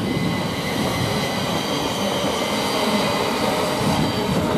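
A Thameslink train running from Ely to London King's Cross departs Cambridge North station with a loud, steady rumble of wheels on rail and a high squeal, close by and unbroken throughout.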